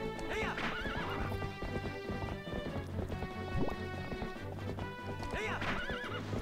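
A horse in Zelda: Twilight Princess HD gallops with steady clip-clopping hoofbeats and lets out shrill whinnies near the start and end, set against game music.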